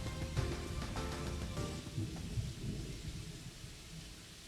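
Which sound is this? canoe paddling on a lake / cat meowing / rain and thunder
rain and thunder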